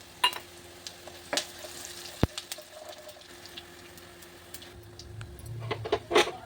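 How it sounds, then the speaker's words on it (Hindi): Cumin seeds crackle in hot refined oil in a pan, with scattered sharp pops and clicks over a faint sizzle, followed by a louder stir near the end. "तो जीरा हमारा तड़कने लगे।"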